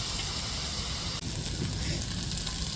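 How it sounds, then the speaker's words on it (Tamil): Onions with salt sautéing in a pan while making a fish cutlet, giving a steady, close sizzle and hiss that runs the whole time with no talking. "வெங்காயத்தில் உப்பு போட்டுக்கிறோம் அப்போ தான் வெங்காயம் கொஞ்சம் நல்லா வதங்கி வரும்"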